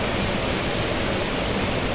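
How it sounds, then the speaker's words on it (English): Bukal waterfall in Majayjay, Laguna roars as a steady, dense wash of falling water, loud and continuous with no pauses, filling the whole scene without any voices. "This is actually the first fall."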